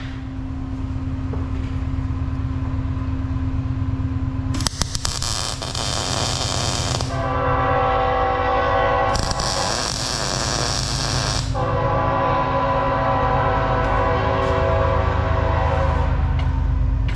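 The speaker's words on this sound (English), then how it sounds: "of course we would have a train go by" A train passes near a farm workshop where a tractor loader is being fabricated. A low steady rumble runs throughout under a constant electrical hum, and two long blasts of the train horn sound partway through, with no talking.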